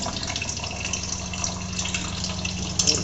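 Water from the drain line of an RO purifier runs in a steady, continuous rush, close and moderately loud, with a faint drip or trickle texture and no voices.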